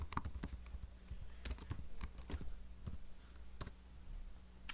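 Clicky keys on a computer keyboard tapped in quick irregular bursts with short pauses, close and fairly quiet, with no talking.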